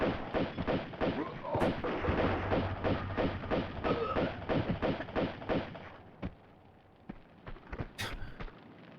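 Rapid pistol gunfire in the PlayStation 1 game Tomb Raider 2 (1997): a fast run of sharp, evenly spaced shots over the first six seconds, then a few scattered single shots, with game ambience underneath.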